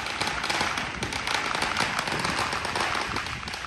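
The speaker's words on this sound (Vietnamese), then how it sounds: "Ở dưới kia nó bắn giống như pháo Việt Nam các bạn ha." A rapid string of firecrackers pops and crackles nonstop, set off by a neighbour at New Year, dense sharp bangs at moderate distance with faint background sound.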